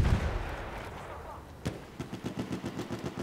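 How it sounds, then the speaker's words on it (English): In Battlefield 1, an old single-action pistol fires amid game noise, with a loud shot and heavy boom at the start, a sharp crack midway, then a quick series of quieter rhythmic thumps. "This is one of the original 1800 single action pistols."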